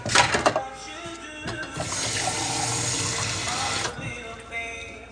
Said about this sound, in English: We have a pot where we add the water in it.